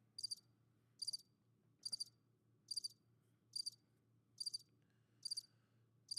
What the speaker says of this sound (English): Crickets happen.